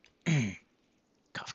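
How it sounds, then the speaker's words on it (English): A short, close cough or throat-clear comes from one person, followed a moment later by a second quick, rough burst. "Cough, cough."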